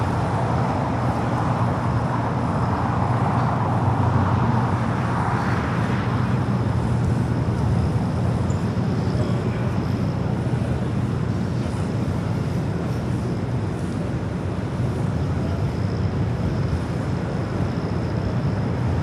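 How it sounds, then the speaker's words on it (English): An Air France Boeing 777 jet begins its takeoff roll on runway 24L at LAX, a steady, broad distant engine roar with a faint high whine holding level throughout, no voices. "Followed by Air France Flight 20 as the 777 now starts its roll down to 24 left"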